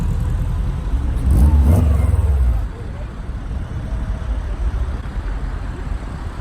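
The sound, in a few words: car with Subaru H4 engine revving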